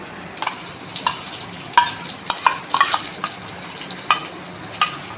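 A mustard-seasoned filling fries in oil while a utensil stirs it, giving a soft continuous sizzle broken by sharp scraping clicks and taps at irregular intervals, close by.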